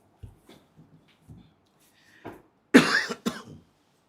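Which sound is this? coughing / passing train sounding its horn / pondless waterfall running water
coughing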